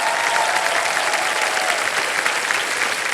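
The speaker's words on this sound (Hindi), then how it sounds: "तालियों के साथ इनका स्वागत किया जाए।" A studio audience on the Kaun Banega Crorepati game show claps in a dense, even burst of applause that fills the whole short moment, with no voices over it.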